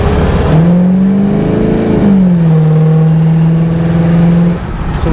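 A 1971 Plymouth Barracuda with a fuel-injected 440 V8 and dual exhaust revs loud and close, climbing to a throaty peak, dropping, then holding a steady deep rumble before easing off, with no talk.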